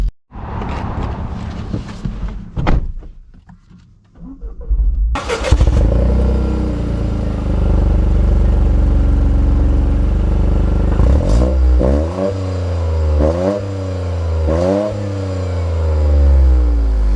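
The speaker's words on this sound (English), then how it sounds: "Get our acceleration here in the Corolla." A 2024 Toyota GR Corolla hot hatch starts up and accelerates hard, its loud engine climbing through repeated rising gear pulls, each shift marked by a quick drop in pitch.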